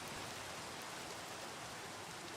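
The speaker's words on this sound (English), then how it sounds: "ooh, Minecraft rain. Get those ASMR vibes in." Steady rain falling in the video game Minecraft, a continuous soft hiss that stays even and unbroken throughout, with no voices over it.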